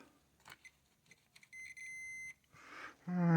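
A cheap electric multimeter emits a steady tonal beep lasting under a second, preceded by faint clicks and handling taps, then followed by louder scraping and rattling noise near a tube guitar amplifier being scrubbed.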